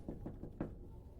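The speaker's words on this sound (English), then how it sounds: "The knock came again. Just 2 quiet taps." Soft, quiet knocks on a back door, several low muffled taps in an uneven pattern, faint and close, with no talking.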